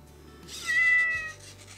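A Metacat robotic companion cat gives one drawn-out, fairly close meow in a quiet room, with no talk over it.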